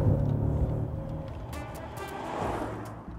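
A Mercedes-AMG S 63 engine rumbles steadily, with the low drone building to a throaty swell partway through before settling again, close and fairly loud.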